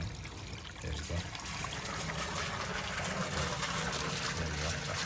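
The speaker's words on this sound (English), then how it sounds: "it's gonna pour some water down the toilet now" Water poured into a toilet bowl during a leak repair, a steady close splashing gush and trickle that runs continuously with no talk over it.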